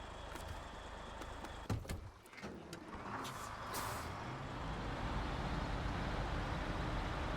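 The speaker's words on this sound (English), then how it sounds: "Also, I love the parking brake sound." Air release of a truck's parking brake in SnowRunner, heard as a sharp hiss burst around the middle over a steady engine drone that continues throughout.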